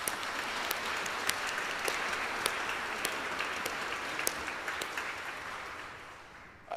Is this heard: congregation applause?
yes